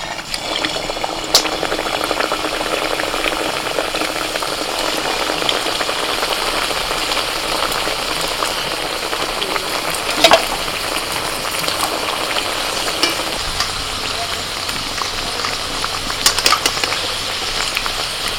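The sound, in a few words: chicken kachori frying in hot white oil in a wok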